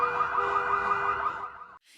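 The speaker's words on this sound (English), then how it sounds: "he sets off multiple car alarms to create confusion" A car alarm blares loudly and steadily for a moment with a harsh electronic tone, then cuts off abruptly before a brief faint chirp.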